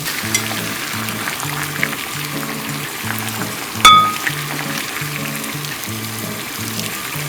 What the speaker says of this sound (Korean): 먼저 양배추를 끓는 물에 데쳐주어 식혀주세요.